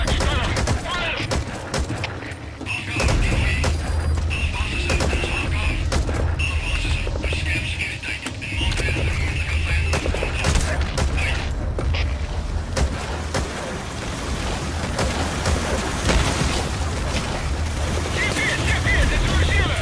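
Dense, sustained gunfire and explosive bursts from a Metal Gear Solid V: The Phantom Pain battle on PC, loud and continuous throughout with booming low-end impacts, with voices speaking in places.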